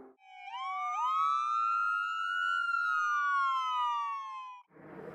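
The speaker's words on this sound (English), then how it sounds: "It's the one that just goes sort of up and down in a sort of a wailing pitch." A Calgary EMS ambulance siren sounds its wail tone, one clean, loud electronic sweep rising quickly, holding, then slowly falling, heard alone.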